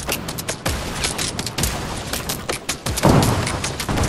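Video game gunfire crackles in rapid, dense bursts, loud and close, with a heavier boom near the end and no talk over it.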